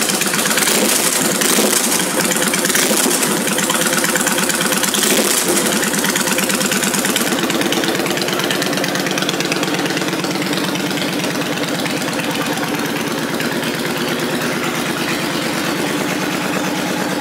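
A carbureted 2005 Honda VTX1300C motorcycle engine idles steadily and loudly up close, a continuous low rumble with an even throb throughout and no talking.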